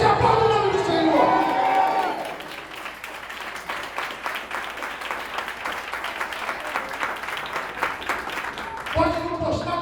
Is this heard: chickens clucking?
no